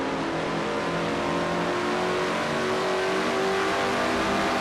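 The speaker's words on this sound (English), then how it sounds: "Lowers the throttle again, 134 miles an hour off turn number 9 for Jess." A race car engine in a racing video game set at Watkins Glen drones continuously at high revs, loud and steady throughout, with no talking.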